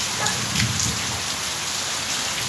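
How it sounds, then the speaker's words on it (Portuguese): Steady rain falls on a rural area in Morada Nova, Ceará, as a continuous close hiss of drops on surfaces with no voices, while a faint low rumble may hint at distant thunder. "Chuva de novo, e tome chuva."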